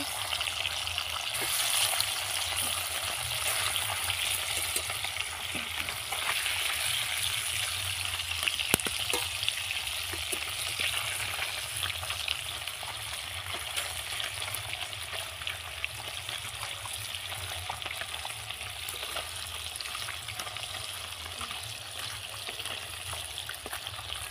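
Ruli fish fry in hot oil with a steady, dense sizzle that holds evenly throughout, with faint clicks and scrapes as the pieces are turned; no one speaks.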